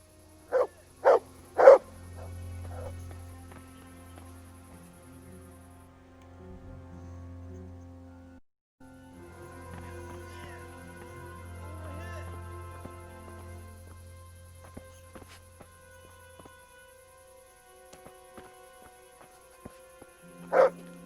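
A dog in the medieval game Kingdom Come Deliverance gives a few sharp barks at the start and one more at the end, with low hums and faint movement sounds in between and long quiet stretches, no talk.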